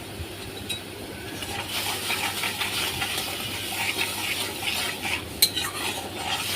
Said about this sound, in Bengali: এখন ভালো করে মা মশলাটা কষে নিচ্ছে